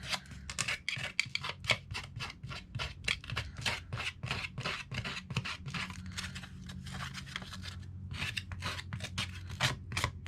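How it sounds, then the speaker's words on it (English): Scissors snip repeatedly along paper edges to distress them for a shabby-style craft journal, a fast irregular series of close, crisp cuts and rasps with no talking. "take my scissors and just distress the edging a little bit"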